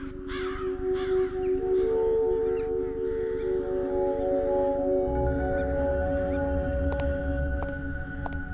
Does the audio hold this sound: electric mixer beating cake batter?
no